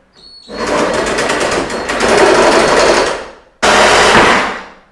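A power tool, likely an angle grinder, cuts through threaded rod in a garage, a loud, sustained grinding run of about three seconds, a brief pause, then a second close, loud burst of cutting.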